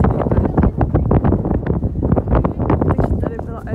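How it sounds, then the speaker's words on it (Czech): Strong wind buffets the microphone on the rim of a volcanic crater, a loud continuous roar with rapid gusty pulses throughout, while a voice talks underneath. "Tady je mega vítr"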